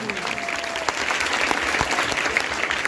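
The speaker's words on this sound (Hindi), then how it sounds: "उनके लिए एक बार जोरदार ताली हो जाए।" An audience at a Teachers' Day event applauds with brisk, dense clapping, scattered claps crackling sharply over the steady din, a voice briefly audible underneath.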